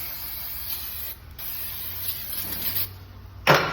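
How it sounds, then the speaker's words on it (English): Brake cleaner sprayed onto new front brake rotors of a 2002 Toyota Tacoma to clear oil from the fins, a continuous close hiss with short pauses and a sharp burst near the end. "we're just gonna take some brake clean, try to get some of the oil out of the fins also"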